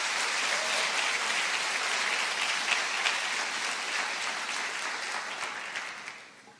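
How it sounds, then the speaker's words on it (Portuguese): A church congregation claps steadily in sustained, dense applause that holds for several seconds before fading out at the end. "Diga amém e aplauda ao Senhor Jesus por isso."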